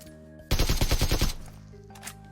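In PUBG Mobile, a rapid automatic burst of about eight loud, close gunshots fires at glass, followed by a fading tail and a faint later impact over quiet game ambience.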